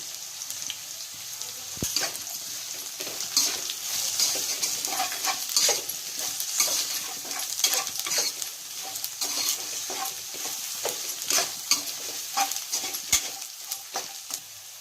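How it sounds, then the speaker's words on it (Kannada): Ivy gourd pieces frying in a pan sizzle steadily while a spoon stirs them, giving occasional scraping clicks over a constant hiss, close and without speech. "ಇದನ್ನ ಆವಾಗವಾಗ ತಿರುಗಿಸ್ತಾ ಇದ್ರೆ ಪೀಸಸ್ ಕರೆಕ್ಟಾಗಿ ಬೇಯ್ತವೆ"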